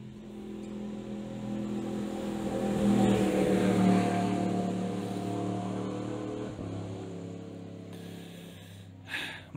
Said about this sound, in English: Motorbikes are so noisy.